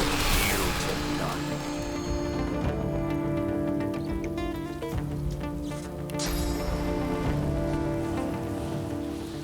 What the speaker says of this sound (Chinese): 这个下雨